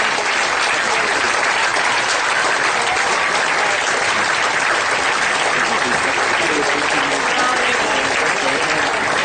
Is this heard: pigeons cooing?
no